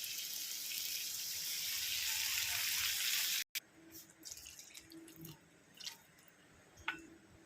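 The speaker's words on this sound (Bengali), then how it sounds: "এবার জল দিয়ে দেব" Water pours steadily into a pan of small mixed fish curry with a loud continuous hissing rush that cuts off abruptly, followed by quieter sizzling and light clinks.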